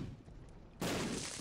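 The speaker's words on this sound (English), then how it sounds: "that first bomb was not close enough" A bomb goes off in The Binding of Isaac Repentance video game: a sudden, loud, full blast cuts in partway through and roars steadily to the end over a quieter game background.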